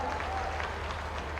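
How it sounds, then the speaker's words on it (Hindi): Crowd applause at a public rally in Khandwa honouring children, a dense steady wash of many hands clapping throughout, with a faint voice trace early on. "पहली बार जोरदार ताली बजाओ बच्चों के लिए।"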